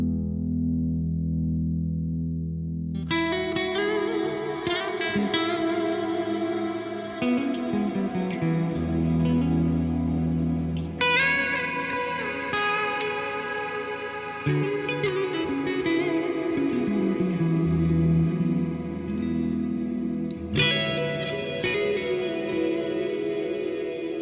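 An Eventide Blackhole reverb pedal with freeze engaged holds dense, shimmering pad-like washes, loud and continuous, with new swelling chords layered in every several seconds over a sustained, distorted-sounding bed of frozen tone.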